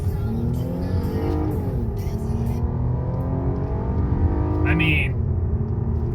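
A four-door family car's engine revving hard under a stomped throttle, loud and close, the pitch sweeping up and settling across the clip while someone talks over it.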